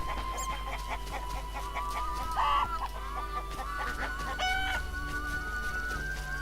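Chickens cluck and a rooster crows in a village setting in The Witcher video game, repeated fowl calls over a quiet steady game ambience with no speech.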